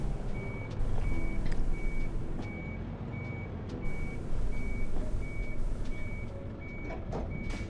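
Truck backing up in Euro Truck Simulator 2, with evenly spaced electronic reversing beeps repeating over a loud diesel engine rumble, plus occasional hisses and clicks.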